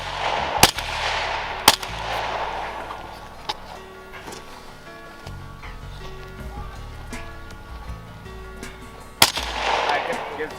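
A handgun fired one-handed at an outdoor range cracks in four sharp, widely spaced shots, loud and close, with people talking and reacting between them.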